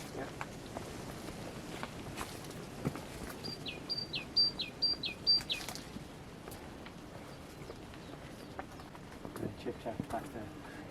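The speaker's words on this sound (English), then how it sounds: "we've been hearing lots of chiff-chaffs today. They're migrant birds, aren't they?" A chiffchaff repeats a short, high, even-paced song of a few notes in the middle, faint under rustling steps and people talking outdoors at a nature reserve.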